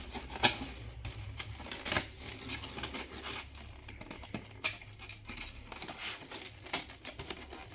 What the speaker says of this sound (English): Go ahead and peel off the excess middle foam or excess foam that's there in the middle